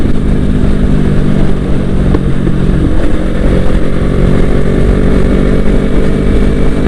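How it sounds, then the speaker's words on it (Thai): A Yamaha YZF-R3 motorcycle rides off with a loud, steady engine drone close by, holding a constant throttle with no talk. "ขี่ออกกันอยู่วันนี้"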